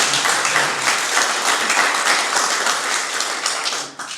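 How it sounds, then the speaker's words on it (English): An interview audience applauds steadily for about four seconds, a dense, loud wash of clapping with no talking over it. "Deserves applause."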